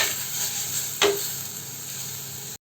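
Masala with pepper powder being stirred in a pan for a pomfret chilli curry: a steady hissing sizzle and one distinct spoon scrape partway through, with no talking.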